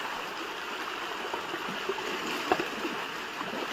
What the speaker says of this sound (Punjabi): ਆ ਵਗਦਾ ਦਰਿਆ ਆ ਥੱਲੇ ਵਿਖਾ ਮੜਾ ਜਾ ਆ ਪਾਣੀ ਚੱਲ ਰਿਹਾ